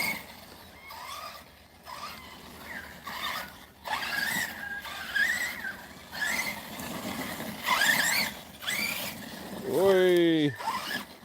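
A small remote-control car buzzes and whirs as it drives around a back yard, with its motor pitch rising and falling in bursts. A sharp sweeping squeal near the end suggests it skidding or revving hard, and a person talks over part of it.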